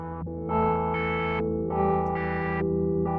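A Motor Synth built from drone motors plays steady buzzing, distorted tones through effects, stepping between pitches in short sustained blocks with a gritty, chorused texture.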